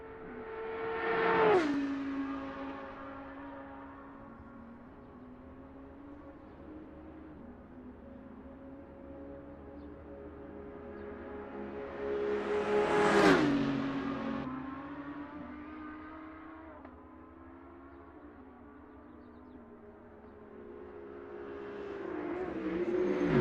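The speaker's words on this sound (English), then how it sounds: "As the GT4 Mercedes cleanly overtakes the Audi" GT4 Mercedes and Audi race cars at the 2023 Nürburgring 24 Hours: a steady engine drone from afar, with two cars roaring past, each rising to a loud close peak then dropping away in pitch.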